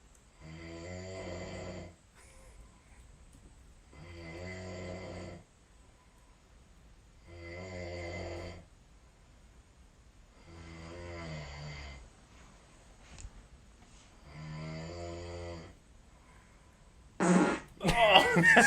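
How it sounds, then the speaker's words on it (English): A recorded fart plays back from a drone podcast, several long, low, buzzing blasts of about two seconds each with gaps between them, snore-like and slightly distant, then a burst of louder clatter at the end. "that fart sounds way like when I'm snoring"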